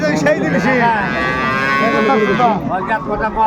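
A dairy cow gives a long, loud, close moo at a busy rural cattle market in Dinajpur where cows and calves are traded, with people talking nearby.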